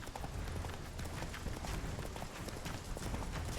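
Roach, a horse in The Witcher 3, gallops with a steady rapid clip-clop of hooves, loud and close, filling the short stretch with no voices.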